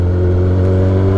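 A 2008 Suzuki GSXR 1000 motorcycle with a straight pipe holds a loud, steady high rev, its engine droning and buzzing close up without a break.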